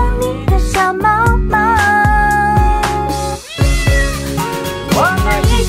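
Cat-like meows sing the melody over a bright pop backing track in a Chinese New Year performance of a children's song, repeated rhythmic meow phrases loud and upfront, voiced imitation rather than a real cat.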